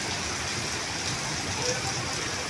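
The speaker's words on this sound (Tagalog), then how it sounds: "Ay, nagpaulan, oh." Heavy rain pouring down in a dense, steady hiss, loud and close and without letup, with faint voices mixed in beneath it.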